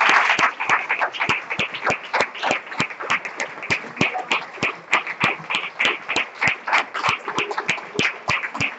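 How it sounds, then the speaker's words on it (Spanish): A church congregation breaks into rhythmic unison clapping, sharp regular claps at a steady tempo with crowd noise underneath, loud and close, lasting several seconds. "Den un fuerte aplauso al Señor."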